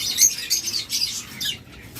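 Caged birds chirp in short, high, bright bursts, several quick calls close by over a faint background rustle.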